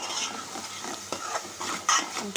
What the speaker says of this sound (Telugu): ఇదిగోండి అల్లం వెల్లుల్లి పేస్ట్ అయితే యాడ్ చేస్తున్నాను ఇలా మంచిగా ఫ్రై అవ్వాలండి